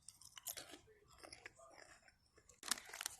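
Someone chews and bites into a British sausage roll, soft crunchy flaky-pastry mastication with a couple of sharper bite bursts, close and fairly quiet against a faint room background.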